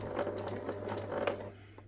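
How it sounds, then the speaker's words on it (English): Sewing machine stitching fabric for a teddy-style memory bear, a close, quick, steady run of mechanical needle clatter over a low motor hum that stops near the end. "Place the leg fabric under your sewing machine foot and put the needle down into the fabric."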